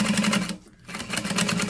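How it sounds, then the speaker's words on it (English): Sewing machine back stitching across a seam where fabrics meet, a close rapid mechanical whir that pauses briefly as it reverses, then resumes at the same pace. "Back stitching where my fabrics meet. Slow back stitch."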